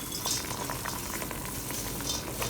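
Rice noodles go into boiling chicken broth for pancit canton bihon, giving a steady, close bubbling and sizzling roar with no talking.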